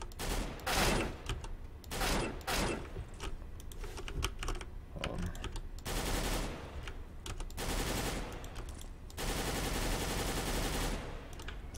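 A Galil rifle fires in a modded video game in rapid bursts of crackling automatic shots. The bursts are split by short pauses, and a longer run of fire comes near the end.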